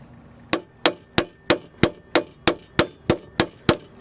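A hammer taps the centre of a wheel bearing hub during a wheel bearing change, giving eleven sharp metallic clangs at an even, steady rhythm, close and clear, with no talk.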